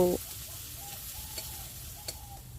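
Chopped onions and two slit green chillies fry in hot oil for a spicy sea crab dish, giving a steady soft sizzle with a few light clicks of stirring and no talking.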